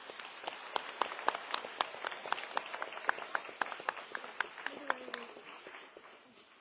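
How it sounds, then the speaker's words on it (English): Scattered audience applause at a school gathering, with distinct individual claps spread across a steady patter that fades toward the end, and a brief voice heard near the close. "please give a round of applause for Mr. Deaver as well"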